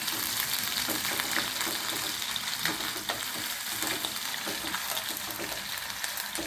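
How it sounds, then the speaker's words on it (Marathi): Khoa sautés in hot oil for methi matar malai, giving a continuous, even sizzle and crackle with faint stirring strokes throughout. "तेलामध्ये आपण खवा टाकून घेऊया आणि छान हा खवा परतून घेऊया"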